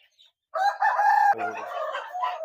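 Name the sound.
rooster crowing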